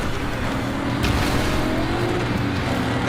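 A car engine in Cyberpunk 2077 drones steadily through a high-speed chase, a dense, continuous roar with a slight pitch rise toward the end and no voices.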